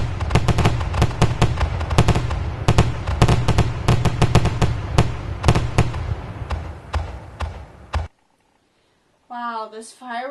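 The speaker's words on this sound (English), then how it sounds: "let's get ready to set up some fireworks" Rapid string of sharp firework bangs and crackles, loud and close, bursting in irregular clusters for about eight seconds before cutting off, followed by a short stretch of voice.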